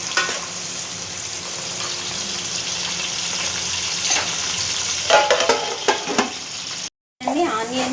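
Onions and green chillies frying in a pan, a loud continuous sizzle with scraping stirs growing busier toward the end and a brief gap in the sound.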